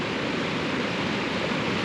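Floodwater from snowmelt rushes past near Kaibab Lake, a steady, loud, broadband roar of churning river water that holds constant throughout without a break, with no voices.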